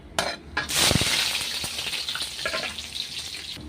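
Onion and chili hit hot oil already tempered with bay leaf and ginger, bursting into a loud sizzle that settles into steady crackling frying with a few stirring scrapes, no voices.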